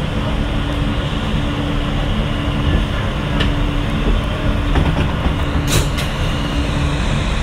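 A Manhattan-bound New York subway R train runs via the 63rd Street line, filling the car with a loud, continuous rumble and hum, with faint clicks and squeals from the rails.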